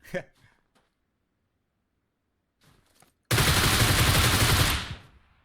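Groza assault rifle in PUBG Mobile: a few short clicks and light handling noises, then a loud sustained burst of full-auto gunfire lasting about two seconds before cutting off.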